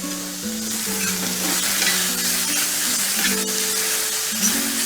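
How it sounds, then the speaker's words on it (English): A mushroom and shallot mixture is stirred in a hot pan, with a loud, continuous close sizzle under scraping spoon strokes, while a steady tonal hum drones along with no voices. "Give it another mix."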